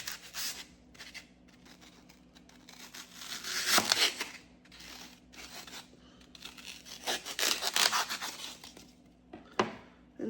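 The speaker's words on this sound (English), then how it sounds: "I'm just gonna take it and cut some of it off." A knife cuts a piece off a foam block for a small DIY gift project, several rough sawing strokes with pauses between them, close and fairly quiet with no talking.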